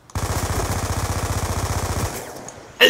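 Rapid automatic gunfire from the video game Call of Duty: Black Ops 2, a sustained burst of evenly spaced shots lasting about two seconds, loud and close, then a short lull before another sharp noise at the end.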